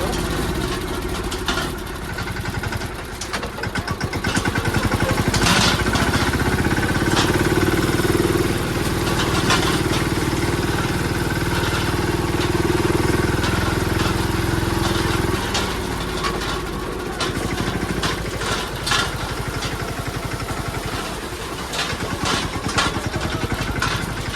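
A tractor engine runs steadily in a farm field during harvest work, a continuous mid-pitched idling drone holding fairly close and even throughout, with faint voices now and then beneath it.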